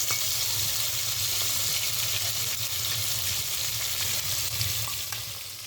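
KFC-style chicken fries in oil with a dense, steady sizzle and crackle, close and loud, over a low background hum.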